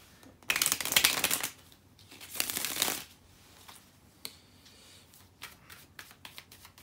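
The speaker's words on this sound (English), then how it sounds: "just bear with me a second, guys, to shuffle the cards" Tarot cards being shuffled by hand, two loud riffling bursts of crisp card flutter followed by softer scattered taps and slides of the deck, close up with no talking.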